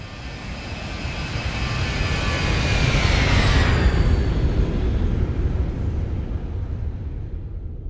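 Simulated Boeing 737 jet engines heard from an external view in a flight simulator after takeoff: a loud, steady roar with a high whine that swells toward the middle, then holds broad and sustained to the end.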